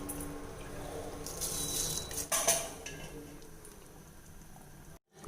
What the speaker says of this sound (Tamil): இப்போ நம்ம வந்து அரிசி சேர்த்துடலாம்.